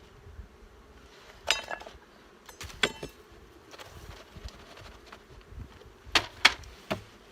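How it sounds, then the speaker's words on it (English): Honey bees buzz steadily as they are shaken into a hive during spring brood nest work, a close, continuous hum broken by a few sharp knocks and clinks of the equipment. "So I'll make sure every bee goes in there by shaking these bees in."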